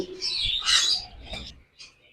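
Small caged birds, including conures, chirp and squawk at a bird market stall: a few sharp tweets close by, with a loud burst in the middle and a softer call near the end.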